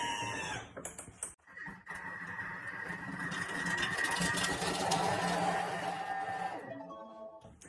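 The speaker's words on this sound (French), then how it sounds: "mon couvercle avec mon gobelet doseur pour qu'on puisse tout mixer. 5 secondes et vitesse 5." A Thermomix blending chicken with mustard at speed 5, a steady whirring motor hum that rises and holds for several seconds before stopping, preceded by brief clicks and handling noises, fairly close.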